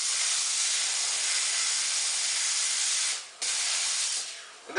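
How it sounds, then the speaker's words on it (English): Steam cleaner jetting a steady hiss over freshly polished elk teeth, a strong continuous spray that briefly cuts out, resumes, then tails off with a short final burst. "We'll give them a quick steam."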